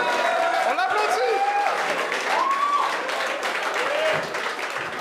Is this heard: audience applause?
yes